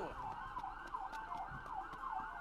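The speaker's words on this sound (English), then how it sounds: "I love sirens" A wailing siren at a carnival in the video game Final Fantasy XV, rising and falling in a repeating cycle over a noisy game soundtrack.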